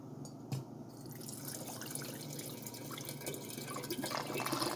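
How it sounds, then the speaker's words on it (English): Sugary dandelion tea is poured into a water kefir jar, a steady liquid trickle and splashing with a few drips, growing slightly fuller toward the end, no voices. "I'm just giving the kefir a fresh base of sugary dandelion tea"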